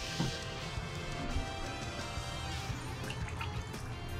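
Water drips and trickles from a wrung-out piece of sound foam, faint and close, with small irregular droplet ticks over a soft liquid hiss.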